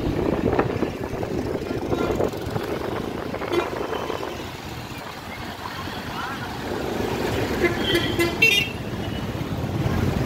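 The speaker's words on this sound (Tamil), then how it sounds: "தீபாவளிக்கு முன்னாடியே இப்படி டிராஃபிக்காக இருக்கு." Busy pre-Diwali road traffic in Tamil Nadu with engine rumble and repeated car horn toots, close by, with voices talking over it.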